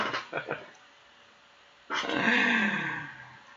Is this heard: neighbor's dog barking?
yes